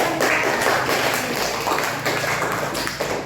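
Audience applause at a school event, a crowd of hands clapping steadily and fairly close, sustained throughout with slight swells and dips.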